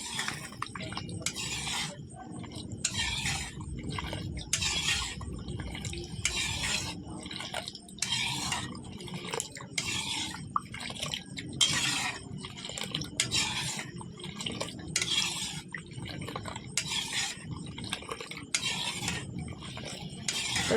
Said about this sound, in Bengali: তো এরকম ভালো করে দেখো নাড়ছি।